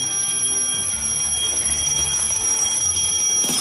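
An alarm clock rings steadily for the whole stretch, a dense, continuous bright jangle at constant loudness with no voices over it, set during a timed escape challenge.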